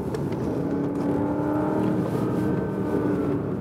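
Porsche Panamera Turbo S Hybrid powering out of a corner on a slightly wet racetrack, a steady loud engine roar rising in pitch as it accelerates, heard close with no talk.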